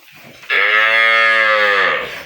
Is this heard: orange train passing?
no